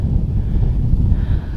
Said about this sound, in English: And see, it's pretty windy.